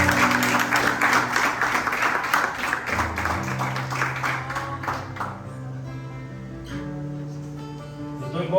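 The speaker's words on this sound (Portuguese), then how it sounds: "Aplauda ao Senhor" A church congregation applauding during a service, a dense burst of clapping that fades after a few seconds into ringing tones and quieter background.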